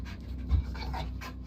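An excited dog pants rapidly and restlessly in a bedroom as it tries to reach a ceiling fan fixture, short breathy huffs close to the microphone over a low background hum.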